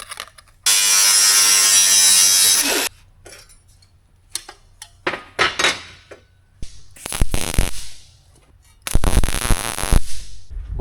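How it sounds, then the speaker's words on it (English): Welding on a military Humvee during a Cummins engine swap: a loud continuous buzzing arc at the start, then scattered ticks, clanks and short crackling bursts of shop work, with a second sizzling run near the end. "I weld better than I thought."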